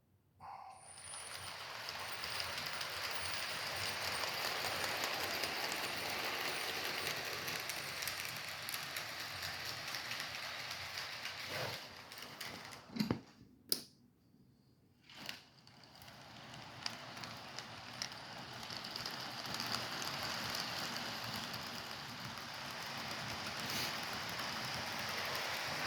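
A small HO-scale model train with a 2-10-10-2 Virginian locomotive rumbles and rattles steadily along its track, with a couple of sharp clicks and a brief lull midway.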